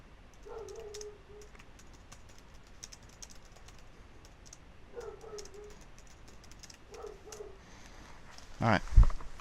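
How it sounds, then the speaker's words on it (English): Soft bursts of clicking keys on a computer keyboard as messages are typed, quiet and close in a still room, with a couple of louder knocks near the end. "I'm going to stop typing messages to people now"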